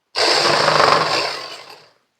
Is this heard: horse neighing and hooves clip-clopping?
no